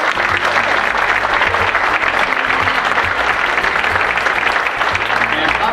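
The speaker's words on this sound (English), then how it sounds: "We should give these guys a hand" Loud, sustained applause from a conference audience for API developers, dense and steady clapping filling the whole stretch with no pause.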